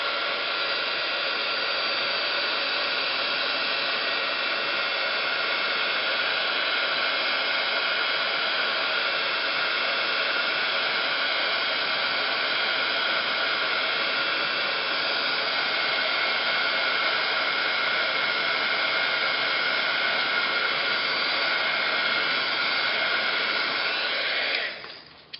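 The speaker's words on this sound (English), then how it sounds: "I'll hit it with the heat gun." Heat gun blowing hot air over a light opaque white paint overlay, a loud, constant rushing hiss held unbroken for about twenty-five seconds before shutting off at the end, with no talk.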